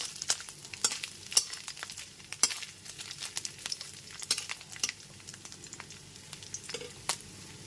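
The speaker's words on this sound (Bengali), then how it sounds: "নারকেল কুচিগুলো এক থেকে দেড় মিনিট ধরে খুব ভালো মতো ভেজে নেব" Coconut flakes fry in oil over a medium flame, a soft continuous sizzle broken by sharp spattering pops and clicks scattered irregularly, close and alone.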